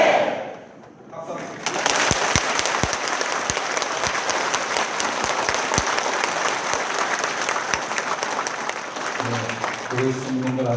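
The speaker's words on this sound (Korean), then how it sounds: "박수." Dense crowd applause at a Korean Catholic Mass marking the centenary of the March First Independence Movement, following shouted hurrahs; steady loud clapping with sharp individual claps, after a brief voice at the start and before a voice near the end.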